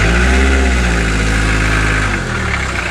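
A car crawls across a very narrow dirt track through coffee-growing countryside in the Satipo jungle region, its engine a steady, loud mid-pitched drone close by that dips slightly near the end, with no voices.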